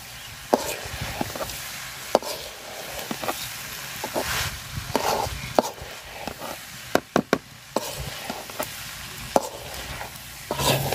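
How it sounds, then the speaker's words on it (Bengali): Rice and lentils fry with spices and whole green chillies for khichuri, with a steady sizzle broken by sharp, irregular knocks and scrapes of a spoon stirring in the pot. "চাউল আর ডাউল আমি খুব সুন্দর করে ভাজা নিছি মশলার সাথে"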